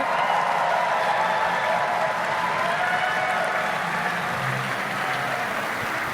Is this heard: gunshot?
no